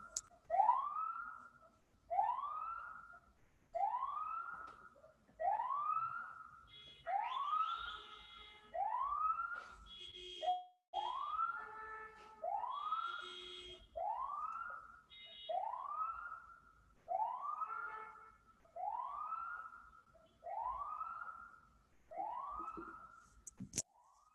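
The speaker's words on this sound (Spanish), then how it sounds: "está pasando una ambulancia acá cerca de casa" An ambulance siren whoops in a steady repeating rise-and-fall pattern, passing near a house, fairly faint and distant-sounding, continuing for a long stretch.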